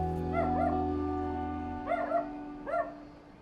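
Dogs in the Vietnamese countryside let out short bursts of yelping barks and whimpering, in three separate clusters over about three seconds, over a steady low hum that drops away partway through.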